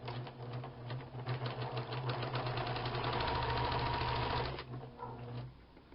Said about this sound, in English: So I'll go to the sewing machine,